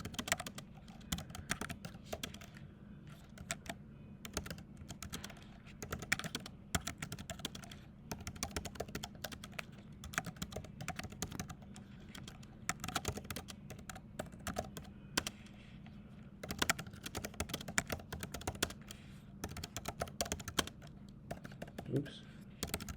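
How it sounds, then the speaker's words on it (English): Fingers type on a computer keyboard in a steady, continuous stream of quick close clicks and clatter, with a low background hum and a voice talking at times. "We're going to type that in."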